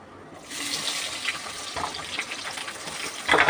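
Onion goes into hot oil with black cumin seeds in a kadai, setting off a sudden loud sizzle that keeps hissing and spitting close by, with no talk.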